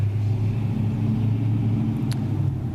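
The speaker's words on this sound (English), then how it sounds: "There's a truck coming by here, big loud lifted truck." A big, loud lifted truck rolls past close by, a steady heavy engine rumble with low exhaust drone holding throughout, heard alone without speech.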